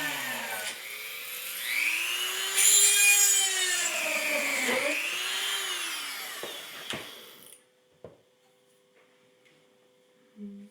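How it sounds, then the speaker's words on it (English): A drill bores holes in a metal mobile piece headed for powder coating, its rising and falling whine grinding through the material for several seconds before cutting off into quiet, followed by a few sharp clicks and taps. "pre-drill holes for a piece that is going to be powder coated."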